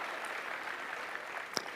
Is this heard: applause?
yes